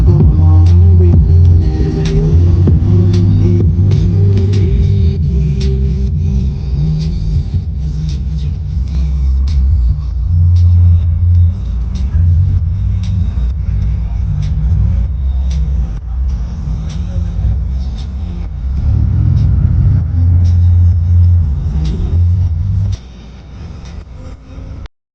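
A car driving on the road, its engine rumbling low and steady from inside the cabin throughout, with a steady hum that dips slightly near the end; no speech is heard.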